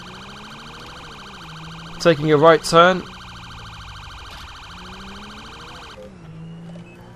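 A police car siren from GTA 5 wails steadily through most of the stretch, with a voice speaking briefly partway through before the siren cuts off near the end.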